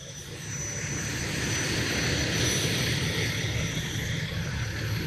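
A 2005 E1 fire engine rolls past during a fire department's 75th anniversary parade, its deep engine rumble loud and steady from start to finish, with no voices.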